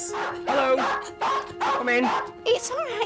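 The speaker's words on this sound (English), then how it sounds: "He always barks like this." A Cairn Terrier barks indoors at a visitor, sharp yips and barks in bursts mixed with a person talking at the door.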